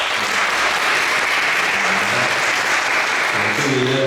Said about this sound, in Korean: 우리 함께 박수 한번 보내주시죠